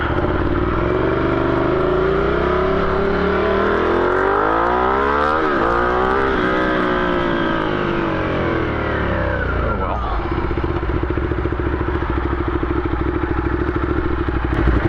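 A Ducati Diavel fitted with a 14-tooth sprocket and a custom engine map, ridden on the road: its loud, close engine note climbs and falls through revs and gear changes, with constant wind rush.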